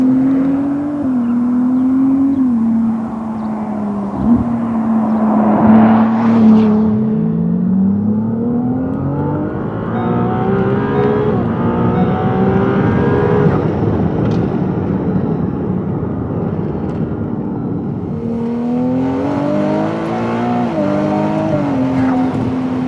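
A Ferrari 296 GTS V6 in race mode accelerating hard from inside the cabin, its engine rising through several smooth upshifts with a loud, steady rasp and a brief swell partway through.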